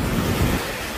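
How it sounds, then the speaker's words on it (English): Atlantic Ocean waves in a bay on the Cuban coast near Holguín, a broad, steady surf wash with a low rumble and some wind buffeting on the microphone, no voices. "Hey, there's the Atlantic Ocean."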